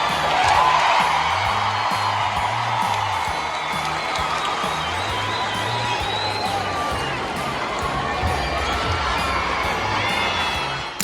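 A basketball arena crowd roars and cheers after a sharp Caitlin Clark crossover, with shrill whoops and shouts from many fans blending into a loud, sustained eruption of noise that holds steady throughout.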